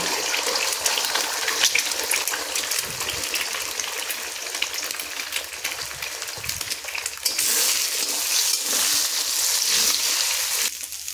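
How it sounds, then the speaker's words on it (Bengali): Eggs fry in oil in a wok, giving a loud continuous hiss and crackle that stays even throughout, with a brief louder surge near the end and no speech. "তো ডিমগুলো এখানে ভাজা হয়ে গেছে।"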